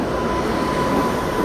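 Twin Visakhapatnam-based locomotives hauling the Kolkata–Pune Duronto Express give off a steady, loud, continuous rumble with no break or rhythm across the short stretch.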